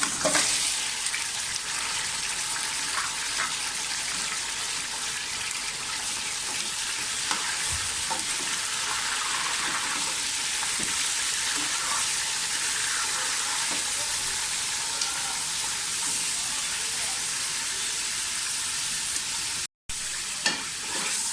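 Mutton pieces fry in oil with whole spices, giving a steady, loud, continuous sizzle with occasional stirring scrapes throughout and a brief break near the end.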